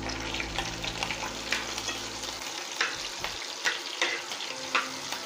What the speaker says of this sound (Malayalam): അപ്പോഴത്തേന് നമ്മൾ അതിൻ്റെ അകത്തേക്ക് പച്ചമുളക് ഇടുകയാണ്.